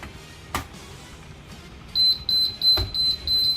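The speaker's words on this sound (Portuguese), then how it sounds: "Então disparou o alarme aqui." An alarm monitoring panel sounding off, a repeated high electronic beep that starts partway through and pulses steadily with short gaps, fairly loud and near, over a quiet room with a couple of brief knocks.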